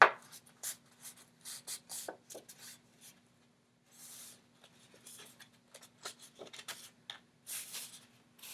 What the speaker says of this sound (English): So I'm folding along the line.